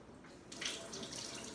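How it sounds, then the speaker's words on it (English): Hot water runs from a kitchen tap, starting as a soft trickle and swelling into a fuller, steady stream within about two seconds, heard close up without talk. "Okay, hot tap water."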